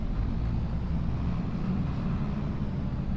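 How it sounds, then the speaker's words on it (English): A tractor in Farming Simulator 25 gives off a steady, low engine rumble that holds constant throughout, loud and close with no talking over it. "Proper tractor noise, all the noises are proper good"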